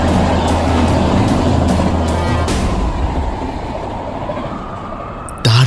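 A train rushes past in a loud rolling rumble with rhythmic wheel clatter that fades over a few seconds before a sudden burst of sound at the end, part of a horror story soundscape.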